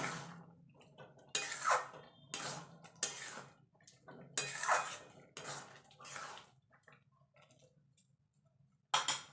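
Carrot halwa with cashews, raisins and almonds fried in ghee being stirred in a pan: a quiet run of irregular scraping and clinking spoon strokes, some close together, with pauses between.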